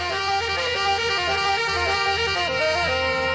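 A man playing a saxophone, a harsh, blaring sustained tone like a car horn, held with small pitch steps and no pauses.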